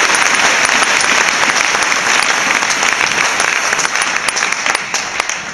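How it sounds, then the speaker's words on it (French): A church congregation applauds loudly and steadily, a dense wash of many hands clapping close by with no pauses, tapering only slightly toward the end. "Donnez-lui l'acclamation"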